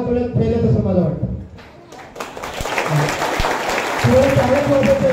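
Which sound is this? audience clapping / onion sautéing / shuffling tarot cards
audience clapping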